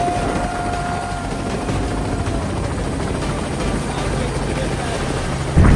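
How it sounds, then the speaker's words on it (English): A helicopter flies nearby, a steady thumping rotor drone with engine whine that holds at an even loudness throughout, with no talking. "Okay, I think I hear the helicopter."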